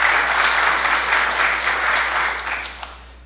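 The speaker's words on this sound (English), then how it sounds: "Let's give him another round of applause and thanks." An audience at a manufacturing industry briefing applauds steadily and fairly loudly, then the clapping thins and trails off over about three seconds.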